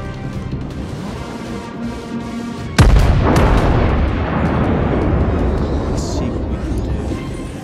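A battleship's main guns fire in the World of Warships game with one sudden heavy boom, followed by a long rumbling roar, over a lower engine drone. Someone talks throughout.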